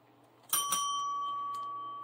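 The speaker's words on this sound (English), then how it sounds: "and ring the bell" A small desk bell is struck, giving a bright ring with a sustained tone that fades slowly, followed by a second quick tap near the end, alone and fairly close in a quiet room.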